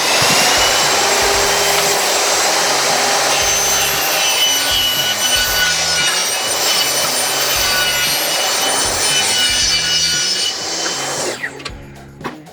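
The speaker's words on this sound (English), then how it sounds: "Let's go cut this board." A saw cutting through a barnwood board for an accent wall, a steady loud rasping hum running for about eleven seconds with rhythmic stroke pulses before cutting off near the end.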